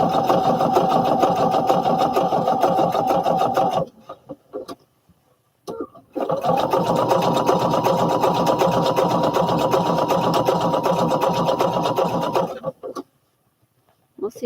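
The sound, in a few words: sewing machine stitching overalls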